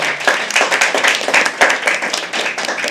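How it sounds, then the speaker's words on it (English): An open-mic poetry audience claps together for a few seconds, a dense, steady patter of many hands close by with no voices over it. "Can everyone else just clap?"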